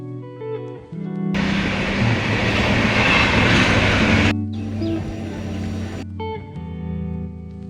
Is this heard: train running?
yes